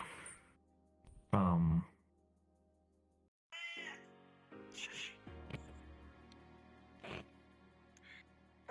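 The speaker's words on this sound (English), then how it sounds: "There are ghost cats in here." Cat meowing in short, separate bursts, one loud meow followed by fainter squeaky meows and soft noises, with quiet gaps between them.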